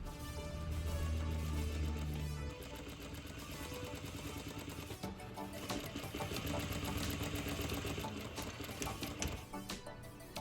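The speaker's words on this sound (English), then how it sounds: "stitch right on the edge" A sewing machine runs steadily while stitching right along a folded quarter-inch fabric edge on a ballerina skirt, a loud, close, continuous mechanical whir with a rapid needle rhythm and no pauses.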